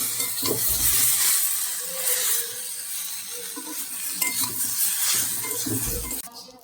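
Okra fries in a pan at home with a constant close sizzle, while a utensil stirs and scrapes it in irregular bursts, ending with a brief clatter.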